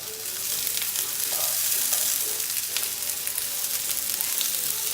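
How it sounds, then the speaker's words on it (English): Mushrooms and onions fry in a pan, giving a steady, close hiss and crackle of sizzling throughout, with occasional soft scraping from stirring. "Now it's time to cook our mushrooms and onions."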